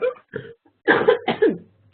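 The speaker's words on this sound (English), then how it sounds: "Sorry for coughing." A few harsh, close coughs, one short hack followed by a louder double cough, with quiet gaps between.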